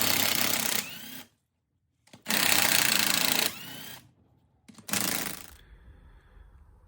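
A battery impact gun removes bolts from a Land Rover differential, fitted with an old non-impact socket: three loud, close hammering bursts of about a second each, separated by short silent gaps.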